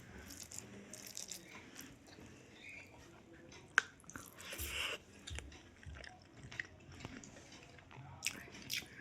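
Someone eating a home-cooked Bengali lunch chews close to the mic with soft wet bites and occasional crunches, fairly quiet, with no talking.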